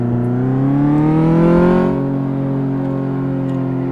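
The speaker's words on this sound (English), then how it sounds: "It sounds like a van, doesn't it?" Car engine in the Car Mechanic Simulator game, driven on a test track, hums with a steady rising then settling drone, revving up briefly before easing to a constant near, loud tone alone.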